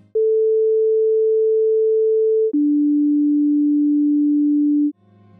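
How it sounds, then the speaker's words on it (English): A pure sine tone holds steadily, then drops to a lower pitch and sustains for another two seconds, loud and isolated before a faint trailing noise. "A slower oscillation and the note of course sounds lower."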